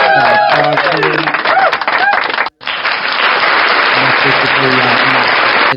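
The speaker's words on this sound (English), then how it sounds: "You've got a applause cheer." An applause-and-cheer effect fired from a podcast soundboard. Someone talks first, then after a brief gap a loud, continuous wash of crowd clapping and cheering runs to the end, with voices faintly underneath.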